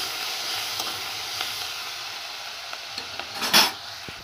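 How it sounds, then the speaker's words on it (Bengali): Ginger and green chili paste frying in mustard oil with asafoetida, a constant close sizzle and hiss with faint utensil taps, ending in a louder burst of spatter. "আদা কাঁচা লঙ্কা বাটা দিয়ে ভালো করে আমি ভেজে নেব।"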